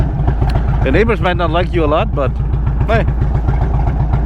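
An Indian Roadmaster Dark Horse 116 motorcycle fitted with Lloyd's tune idles with a loud, steady, deep throaty pulse, close by, while someone talks over it.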